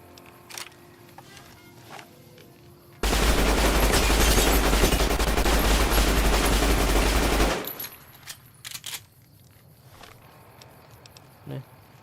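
An auto pistol fires in a video game as one loud, continuous burst of rapid automatic shots lasting several seconds, framed by quieter stretches with scattered clicks and light game sounds before and after.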